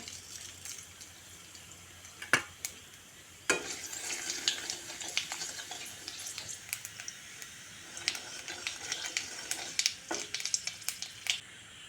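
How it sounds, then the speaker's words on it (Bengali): Dried chillies, bay leaves and black cumin dropped into hot oil in a kadai, giving a steady soft sizzle with occasional sharp crackles and stirring clicks, close and fairly quiet. "এখন ফোড়নে দিয়ে দেবো শুকনো লঙ্কা তেজপাতা দিয়ে দেব কালো জিরে"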